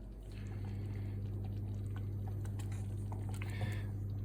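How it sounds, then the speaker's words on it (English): Jam cooking in a pot on a stove, a steady low simmer with faint bubbling and liquid sounds under a constant hum, no voices. "it's cooking and bubbling"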